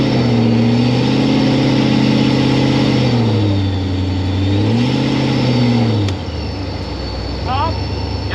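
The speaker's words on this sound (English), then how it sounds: "Second gear, roll into it, and either let out when you hit the rev limiter or I wave at you." A car in second gear accelerating hard toward the rev limiter, a loud close engine note climbing and wavering in pitch, then dropping away as the throttle lifts.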